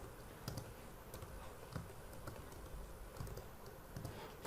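Someone types code on a computer keyboard, producing faint, evenly spaced key taps over a steady background hiss.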